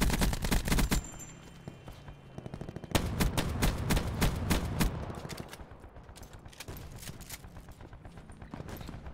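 Rapid automatic video game gunfire rattles in dense bursts, loud and close, with brief pauses between volleys and lighter scattered shots trailing off near the end.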